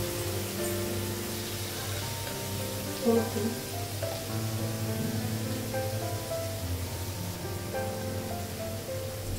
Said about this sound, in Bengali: পোস্তটা একটু ভেজে নিয়েছি